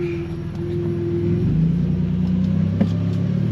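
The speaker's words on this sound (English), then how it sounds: "I don't know if you can hear the whine from overdrive, but I am actually in overdrive in my triple low gear." A truck with a home-made sequential transmission controller drives in overdrive in triple low gear, giving a steady mid-pitched whine over a low engine and road rumble, heard from inside the cab.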